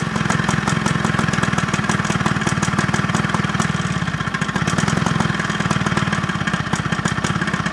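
An old lawnmower engine idles on its own, a loud, steady, rapid putter that stays close and continuous throughout with only slight unevenness in its running.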